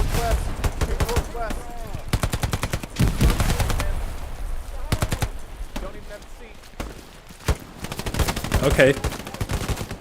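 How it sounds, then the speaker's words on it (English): Gunfire in the video game Hell Let Loose on the Eastern Front, with bursts of rapid machine-gun fire and sharp single shots cracking in clusters, some near and some farther off, while someone briefly speaks between them. "Let's just shoot in the vicinity."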